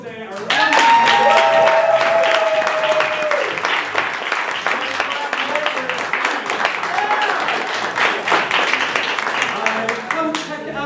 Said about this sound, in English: Giant round of applause for Michael Day